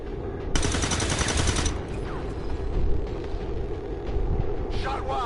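Heavy automatic gunfire in the video game Earth Rising Coalition, a dense rattling burst early on followed by scattered shots and mechanical clatter in a busy combat mix.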